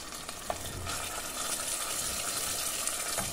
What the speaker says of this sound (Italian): Qui l'ho versata il pomodoro, ho girato del tutto e ho fatto cuocere fino alla cottura del pomodoro